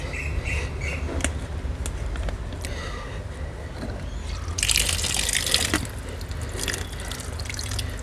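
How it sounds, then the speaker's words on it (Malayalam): Water trickles and drips, then gushes more strongly for a few seconds as it is poured to rinse and collect moina (water fleas), before settling back to a gentle trickle. "മെല്ലെ നമ്മൾ വെള്ളം ഒഴിച്ച് ക്ലീൻ ചെയ്യാം"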